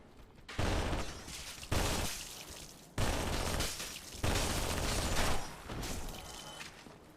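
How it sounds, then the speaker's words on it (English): Bursts of gunfire aimed at the player in the Dark Souls Remastest mod, arriving as four or five sharp, loud volleys with ringing decay between them, no talking over them. "Somebody is shooting at me."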